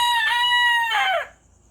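A gamefowl rooster on a short hitch gives one loud, close crow lasting just over a second, then trails into quiet.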